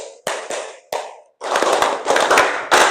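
A classroom of students doing a patterned hand clap during a guidance lesson: three spaced sharp claps, a brief gap, then a fast continuous series of loud claps ending on a final accented clap.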